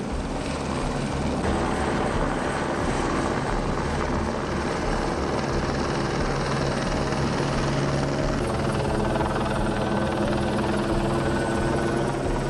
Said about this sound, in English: With a helicopter overhead